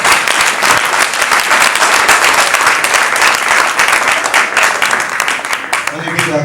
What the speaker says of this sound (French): Est-ce qu'on peut acclamer très fort pour le cœur?